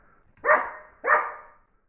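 A dog barks twice, close and fairly loud, with a short gap between the two barks and near silence around them.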